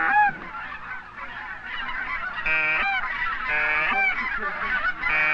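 Geese call in a steady chorus as a flock passes over hunters, with loud overlapping honks that swell and recur throughout, no voices.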